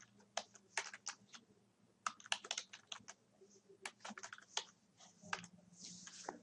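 Steady typing on a computer keyboard, close and fairly quiet, with irregular clusters of key clicks and brief pauses over a faint low hum.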